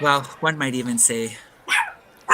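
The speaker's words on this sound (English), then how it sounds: "that was my dog" A pet dog barks a few times indoors at home, a close and sharp sound mixed in with a commentator talking during a live-streamed curling broadcast.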